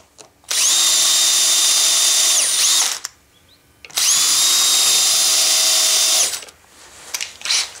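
A power drill with a self-centering bit bores hinge holes while a router table insert is made, two loud, steady high whining bursts of about two and a half seconds each, separated by a short pause.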